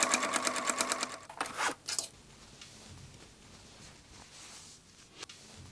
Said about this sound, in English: run a clean top stitch along the upper edge on a sewing machine